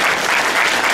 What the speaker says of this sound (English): Let's have a round of applause for somebody who's on the floor.